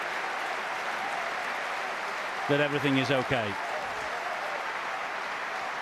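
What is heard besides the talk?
crowd applauding in sympathy at rugby league match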